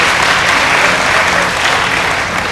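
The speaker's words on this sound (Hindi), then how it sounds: "दोस्तों, आप तालियां बजाकर इस लम्हे को जिंदा कर सकते हैं।" Audience applause at a mushaira, a dense, loud, sustained wash of clapping from a large crowd with no break.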